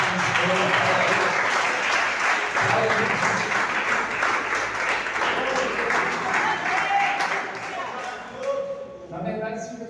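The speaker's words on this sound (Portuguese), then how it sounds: "Você pode aplaudir Jesus," A church congregation at a youth service claps steadily for about eight seconds, the applause thinning toward the end as a few voices come through.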